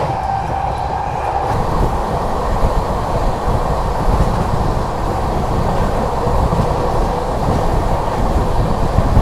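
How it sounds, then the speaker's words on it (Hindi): Kaifiyat Superfast Express rushing through fog at about 130 km/h, a steady, loud, continuous rumble of wheels and rail carriages that holds for the whole stretch. "बढ़िया से कोहरे को चीरती हुई निकल रही है अपनी कैफियत सुपरफास्ट एक्सप्रेस। फ्लैट 130 भागे जा रही है"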